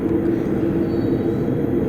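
A London Underground Bakerloo line train at Marylebone station gives off a steady, enveloping low rumble with a faint hum. It stays continuous and even throughout, with no voices.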